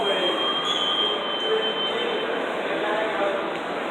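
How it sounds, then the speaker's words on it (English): Riding the Vancouver SkyTrain, a steady loud rumbling roar of the train in motion with a thin high whine running through it, continuous for the whole stretch. "So this is our wonderful SkyTrain, which is going to take me a long ways by train."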